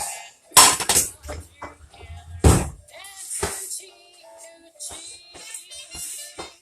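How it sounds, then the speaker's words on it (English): A skillet is picked up and handled on a home kitchen stove, giving a few loud metallic clanks and knocks, with softer clattering and scattered bits of talk between the hits. "I'm going to go ahead and grab my skillet"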